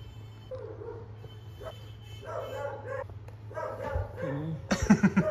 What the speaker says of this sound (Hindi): भौंका जा रहा है, भौंका जा रहा है यार।